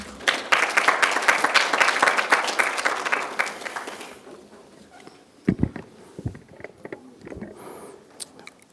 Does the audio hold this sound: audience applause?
yes